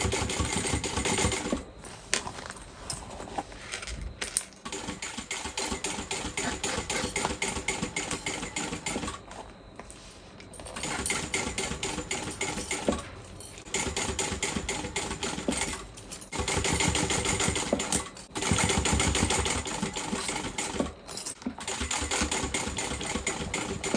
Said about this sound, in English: now I'm just going to sew it on with a 1/4 inch seam allowance.